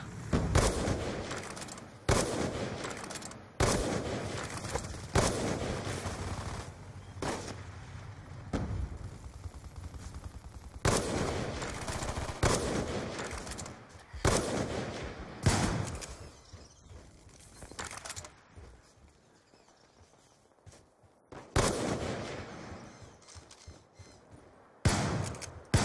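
Bursts of rapid automatic gunfire from a sentry gun in a multiplayer first-person shooter, loud sharp volleys separated by short gaps, with other shots and game effects between them.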